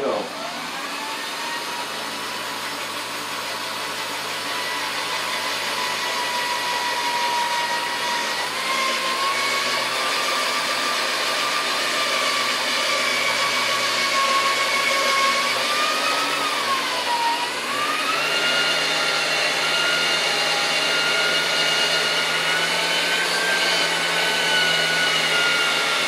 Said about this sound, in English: I've already picked the bit that's going to fit this nicely, and I'm going to go ahead and drill that right now.